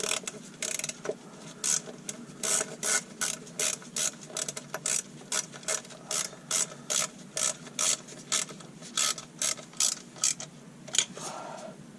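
A ratchet wrench clicks in steady, evenly spaced bursts while snugging down a bolt on a Ram 1500 transmission pan, the clicks close, crisp and fairly loud, with no talk over them.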